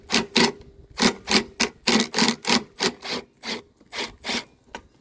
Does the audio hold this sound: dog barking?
no